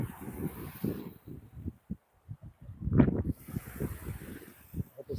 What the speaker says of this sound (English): The wind's picking up, so even if you can't hear me